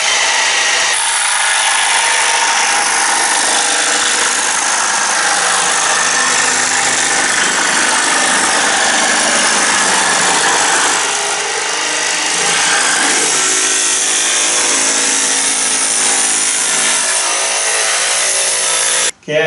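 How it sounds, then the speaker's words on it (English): A bandsaw cuts through a plywood plank for a dinghy build, a loud continuous whine and rasp of the blade in the wood lasting nearly twenty seconds before stopping abruptly at the end. "I'm just going to take it to the bandsaw and see if I can cut this out."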